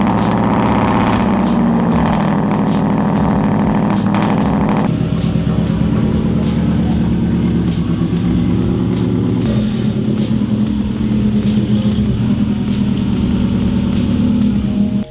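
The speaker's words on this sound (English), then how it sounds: "First I need to cold start the car and move it a little more into the middle of the garage so I have some more space to work." A Subaru STI cold-starts in a garage and settles into a loud, steady idle with a raspy boxer-engine burble, then creeps forward with a continuous low rumble and no voices.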